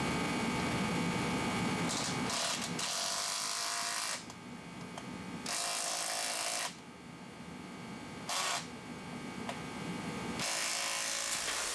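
A fitting is driven into a nylon boost gauge housing with a power tool, cutting its own threads; a loud, continuous whirring drive broken by short pauses and restarts, close up.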